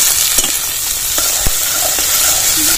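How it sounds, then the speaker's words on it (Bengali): Chopped vegetables such as broccoli, cabbage and peas hiss loudly in a hot pan for a vegetable soup, with a spatula scraping and a few knocks against the metal over the steady sizzle. "একে একে করে সবজিগুলো দিয়ে দিচ্ছি"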